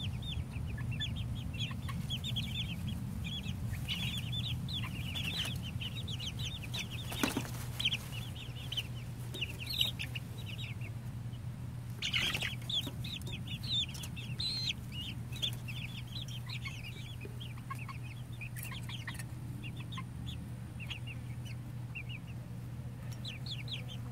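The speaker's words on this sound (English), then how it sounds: "You little buddy chicken." A four-week-old Ameraucana chick clucks softly in repeated short chirps over a constant low hum, with a couple of brief knocks and no talking.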